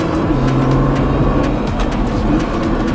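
A car on a race track accelerating hard, its engine revving high and steady throughout, loud and close with harmonic whine shifting as the revs climb.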